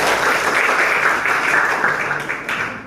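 Audience clapping and applauding during a school classroom lesson, a dense, steady wash of hand claps lasting a few seconds and fading slightly at the end.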